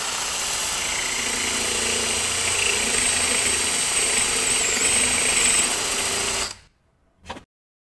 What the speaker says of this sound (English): I'll use a 3/4-inch spade drill to do that